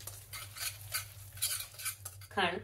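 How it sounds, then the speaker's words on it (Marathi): A spoon stirs thick yogurt tandoori chicken marinade in a bowl, giving repeated wet scraping strokes in a steady rhythm, close and fairly quiet, ending on a sharper clink. "हे छान व्यवस्थित मिक्स करून घ्यायचं।"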